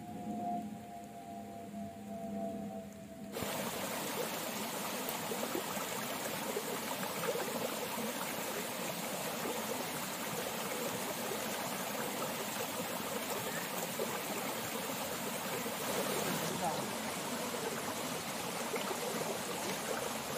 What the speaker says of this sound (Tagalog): Ito naman po ang batis na ating tatawirin na isa sa madadaanan papunta sa lupa.